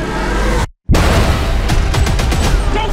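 Trailer action for the movie Ambulance: a loud wash of sound cuts to a moment of silence, then a dense burst of gunfire with rapid sharp shots rings out, loud and close.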